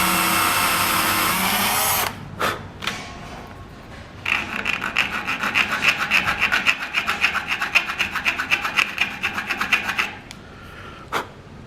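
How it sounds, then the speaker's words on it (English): A power drill bores a hole through a parang knife handle, producing a sustained, rapidly pulsing high-pitched whine with a gritty rasp, preceded by a few brief clicks and starts and ending in a sharp stop. "now I'm going to drill a hole, go through so it can be pinned"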